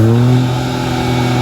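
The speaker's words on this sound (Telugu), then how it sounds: "ఇప్పుడు ఇంజన్ ఎగ్జాస్ట్ నోట్ ఉంటుంది" Hyundai i20 N Line engine and exhaust revving, a loud, steady, close-up engine drone with strong low harmonics that eases slightly and then holds, heard alone in a short burst.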